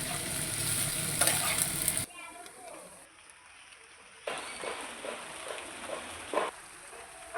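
Potatoes and okra stir-frying in a pan, a close sizzle with stirring scrapes that cuts off abruptly, leaves a quiet gap, then returns more softly with intermittent stirring.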